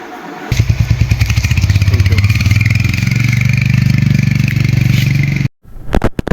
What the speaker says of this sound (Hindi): तो चलिए अब सीधे बाइक पे चलते हैं, सामान लोड करते हैं और निकलते हैं